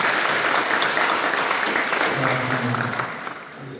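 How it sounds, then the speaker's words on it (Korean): A church congregation claps in steady, dense applause, with a voice speaking briefly underneath before the clapping fades slightly at the end. "우리 박수로 격려해 드리겠습니다"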